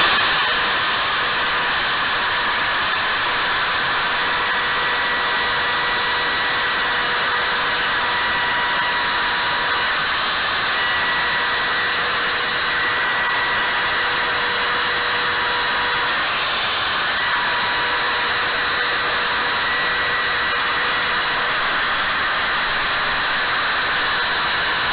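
Makita router freehand carving inset letters into a wooden sign, a loud, constant high-pitched whine with dense broadband noise that runs steadily throughout with no pauses.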